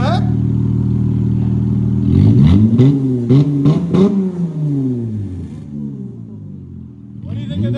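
A car revs through a Race Venoms Black Widow aftermarket muffler, the exhaust idling loud and steady, then rising in several sharp revs before settling back down.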